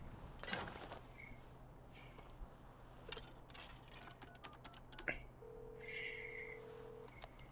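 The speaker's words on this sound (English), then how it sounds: "Phone." A telephone rings in the video game Devil May Cry 5, giving a few short electronic trills over steady game ambience, with a low sustained tone near the end.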